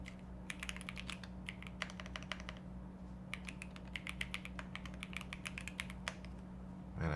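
Faint, quick keystrokes on a computer keyboard come in irregular bursts of clicks over a low steady hum, with short pauses between the runs.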